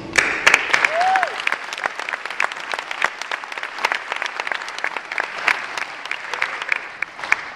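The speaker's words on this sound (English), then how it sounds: "how about a big round of applause for the admissions team?" A graduation ceremony audience for a business school's executive MBA class applauds the admissions team: a dense, steady roar of many hands clapping close by, sustained for several seconds with no talk over it.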